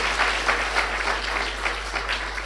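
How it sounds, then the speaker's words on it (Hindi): A class audience clapping together in a steady, rhythmic unison beat of repeated claps, moderately loud over a constant low hum. "ताली बजाओ।"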